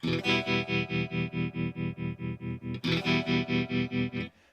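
A guitar chord pulses rhythmically as a tremolo pedal swells the volume up and down in steady, even waves with a soft ramp, played alone and fairly quiet.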